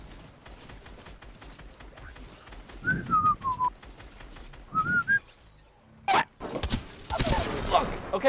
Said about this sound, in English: Why are you shooting the wall?